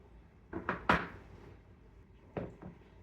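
A kitchen cupboard is opened to take out a mixer: a few light wooden knocks and a sharp clack, then two softer thumps, close by and quiet.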